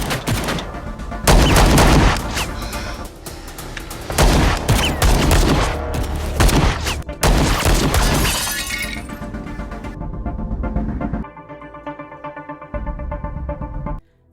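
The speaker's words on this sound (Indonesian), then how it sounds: "Di tengah aksi baku tembak, ternyata asisten Joseph malah tak sengaja tertembak oleh kelompoknya sendiri." Loud bursts of gunfire and shattering glass tear through an action film shootout, with dense volleys in the first ten seconds before giving way to a quieter, steadier rattle of shots at the end.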